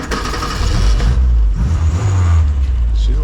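A 1972 MG Midget's small engine catches and settles into a loud, steady idle close by, with a low rumble running throughout.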